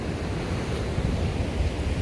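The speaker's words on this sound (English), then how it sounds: "You will hear the ocean waves in the background while I tell the story." Ocean waves heard as a continuous low surf wash with some wind, steady and even throughout, with no voices.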